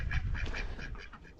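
Ducks quack repeatedly in close, clustered bursts at a farm, a steady busy flock chorus lasting throughout.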